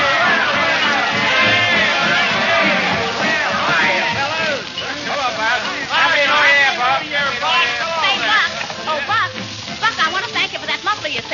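Lively crowd chatter in a parlor, staged as a radio show sound effect: many overlapping voices and bustle, loud and steady, with distinct speaking voices rising above the babble.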